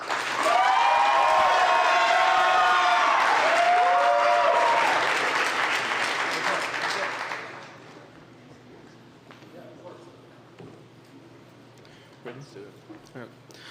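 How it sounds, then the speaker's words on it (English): A large audience at the GCU Canyon Challenge event applauds loudly for a presenting detailing-business team for about seven seconds, then the clapping fades out and quiet room sound remains. "give them a warm round of applause"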